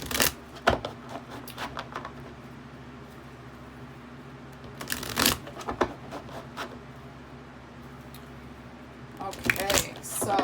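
Tarot cards being shuffled during a monthly reading, with bursts of riffling and flicking at the start, around the middle, and again at the end, separated by quieter stretches over a low steady hum.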